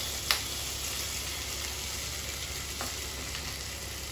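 Potatoes fry in a pan with ginger and garlic, giving a steady close sizzle with a soft crackle and a few sharper pops, no voices.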